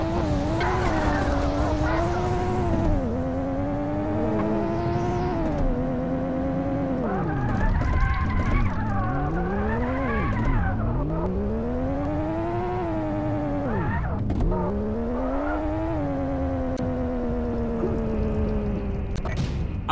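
A car in a video game drives fast, its engine pitch climbing and dropping repeatedly while tires squeal and skid through turns, steady and close throughout.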